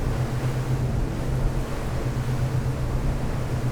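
A Fjord 41XP boat powered by Mercury V12 engines speeds up around 33 to 35 mph, giving a deep, steady engine drone mixed with rushing water and wind noise, with no talking.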